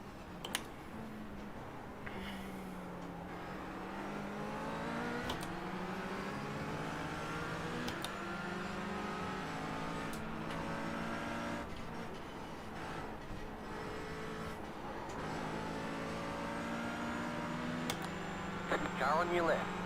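Race cars in the iRacing sim, including a McLaren, drone past with engine notes rising and falling in long gliding sweeps, one dominant whine over layered cars, all under continuous chatter from a player.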